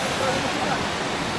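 River water rushing steadily outdoors, a dense broadband wash that holds even and continuous throughout, fairly close and moderately loud.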